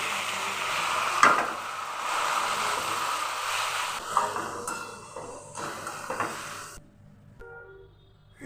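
Flattened rice pulao with potato being stir-fried in a pan: a steady sizzle with scraping stirs and a few clinks of a utensil against the pan, fading out near the end.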